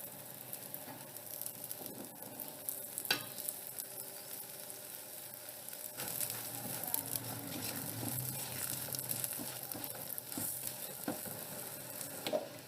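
A paratha frying on a tawa with butter or ghee, giving a steady sizzle and crackle close up, with scraping and stirring sounds and occasional soft thumps. No one speaks.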